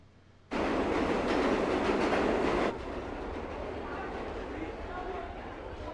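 A train running on rails with a steady loud rumble that starts abruptly and continues throughout, easing slightly partway through with no voices heard.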